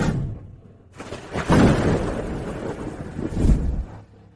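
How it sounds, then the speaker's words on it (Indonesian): Thunder rolls in a sudden storm with rain, two heavy rumbling booms about two seconds apart over a steady rushing wash, loud and close. "Aku tak menyangka hujan dan petir mendadak."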